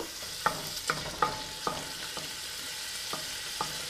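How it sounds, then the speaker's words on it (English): Thick-cut pancetta sizzles in preheated olive oil in a big soup pot, a soft, steady frying hiss broken by a series of light clicks from stirring, close but quiet. "And now I'm going to add my thick cut pancetta"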